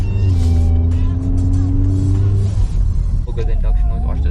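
A 2008-12 Honda Accord 2.4L with a cold air intake revs under load, a loud steady engine drone with rising induction whine heard from inside the cabin, while a person talks over it.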